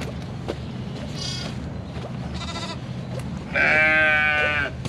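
A sheep bleats loudly and close by near the end, a single sustained harmonic cry over a steady low background hum and faint earlier bleats in the distance.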